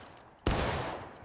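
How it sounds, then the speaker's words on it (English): A volley of musket fire erupts in a video game battle, a sudden loud crack followed by a rolling burst of overlapping shots that lingers and fades slightly. "Keep up the fire. Independent fire."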